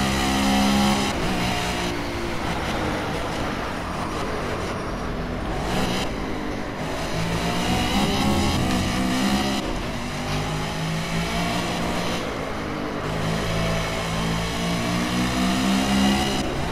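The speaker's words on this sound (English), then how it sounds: "I am really working these brakes." Race car engine in the Project Cars video game at Dubai Autodrome, revving up and down continuously through gear changes and hard braking into turns, loud and close throughout.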